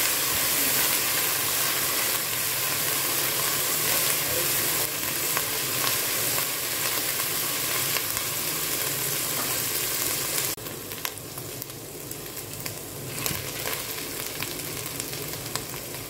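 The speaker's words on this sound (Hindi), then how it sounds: "लहसुन अदरक का paste, ginger and garlic paste, 1/2 चम्मच भून लेना ताकि इसकी खुशबू भी आना शुरू हो जाए" Ginger-garlic paste frying in a pan, a loud continuous sizzle and hiss that eases a little in intensity about two-thirds through, steady with no talking.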